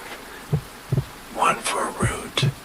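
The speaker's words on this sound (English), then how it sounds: "heard the orchard's 3 heartbeats" Three soft heartbeat thumps as a sound effect in a relaxing story narration, low muffled pulses spaced evenly, mixed with brief faint murmuring voice sounds between them.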